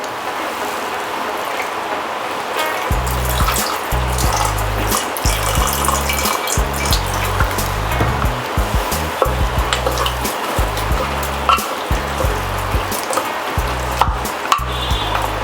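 Water poured over browned chicken in a pressure cooker, a steady close splashing, trickling pour with frying crackle beneath, running in bursts with brief pauses and no talk.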